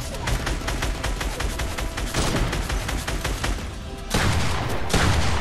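Gunshots in the Fortnite video game, a dense rapid rattle of shots firing almost continuously with a few heavier bursts near the end, loud and close with no talking over it.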